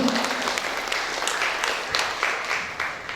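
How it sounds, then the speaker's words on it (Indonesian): Applause from a seminar audience at a national college event: steady, moderately loud clapping from many hands fills the hall briefly, with a murmur of voices underneath. "Boleh kasih aplaus dulu Bapak Ibu"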